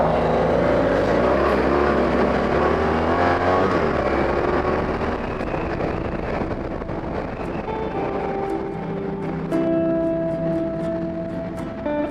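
A motorcycle ridden on roads near Koli and Räsävaara gives a loud, continuous engine drone with wind rush, shifting in pitch as it accelerates and settles.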